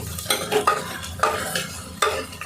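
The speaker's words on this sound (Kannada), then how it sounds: "ಮಸಾಲ ಇದ್ರೊಳಗೆ ಹಾಕಿ ಮಿಕ್ಸ್ ಮಾಡ್ಕೊಂಡು" Masala being stirred into a pot of sambar, close spoon-on-pot scrapes and clinks repeating roughly every second over a soft bubbling sizzle, with no talking.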